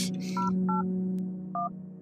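Telephone keypad tones dialing a number in the game Strange Telephone, several short beeps spaced unevenly over a steady low hum.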